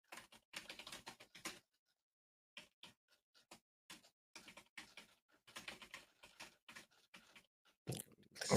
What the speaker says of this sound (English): Look it up, Ronno. Get that shit up. Typing away.